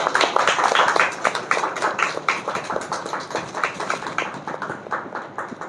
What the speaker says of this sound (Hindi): सब ताली बजाएंगे।